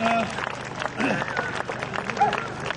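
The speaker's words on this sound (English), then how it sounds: "Lovely applause for them all." Spectators at an Imber Court Dog Training Club display clap for the team, a brief dense patter of applause with a voice and scattered sounds over it.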